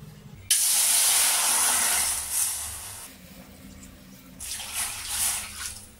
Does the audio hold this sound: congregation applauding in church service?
no